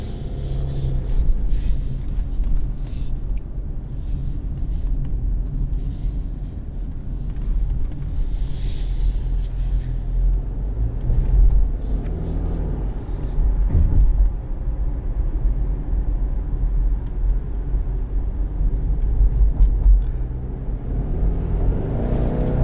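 A 2020 Subaru Outback XT's turbocharged engine pulls under acceleration, a continuous loud interior drone of engine rumble mixed with road and tire noise, rising and swelling in surges with no talking.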